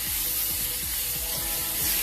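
Crushed spice mix for rasam sizzles steadily in a hot pan while a spoon scrapes and stirs it in repeated strokes, close and continuous, with no voices.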